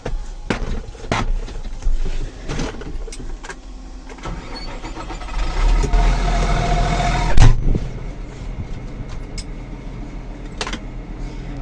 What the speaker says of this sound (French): Je vais amener le tracteur là-bas.